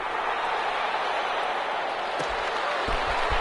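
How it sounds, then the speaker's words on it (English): A large crowd at an American football game claps and cheers steadily throughout, a loud sustained wash of applause filling an open stadium, with occasional low thumps near the end. "How about some applause for the defense there?"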